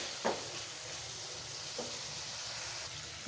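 Green chilies fry with onion-garlic paste in a hot pan, a strong continuous close sizzle with a few brief stirring scrapes and no voices.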